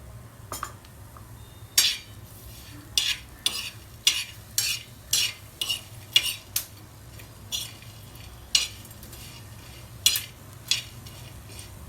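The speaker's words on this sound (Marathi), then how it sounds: "धने तडा तड उडायला लागले" Coriander seeds roasting with masala in a little oil for Dhangari chicken, heard as a steady run of sharp, separate pops and crackles over a low hum, close by and fairly quiet, with no voices.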